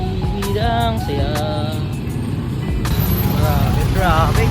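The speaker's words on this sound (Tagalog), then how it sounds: "Marami traffic." Heavy road traffic on a busy street, with engines rumbling and vehicles passing close by, continuous and loud beneath people talking in the foreground.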